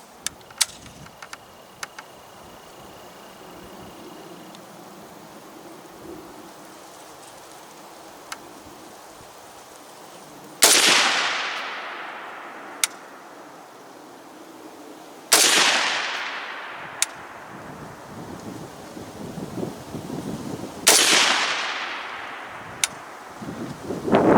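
Three loud, sharp rifle shots from a Palmetto State Armory AK-104 firing Red Army standard full metal jacket ammunition, spaced about five seconds apart outdoors, each crack trailing off in a long ringing decay over wind noise and faint ticks.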